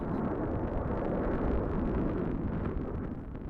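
A deep, continuous rumbling roar, like a distant missile launch, fills the whole stretch steadily before easing off slightly at the end.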